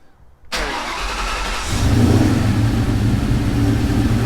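A car engine restarts after a throttle body repair: a sharp crank and catch, then a steady, loud idle with a slight rise in pitch and volume as it settles, no voices.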